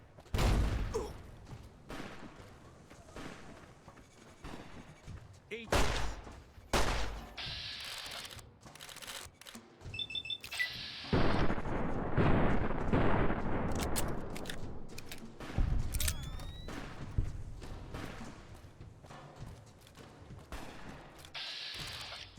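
Bursts of gunfire from combat in the video game Fallout: New Vegas, with rapid volleys of shots that come in clusters and pauses, loud and close, and no one speaking.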